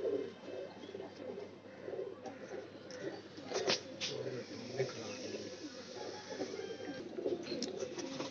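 A Neelay Kamagar pigeon coos in soft repeated rolling phrases close by, with light chirps and a faint voice in the background.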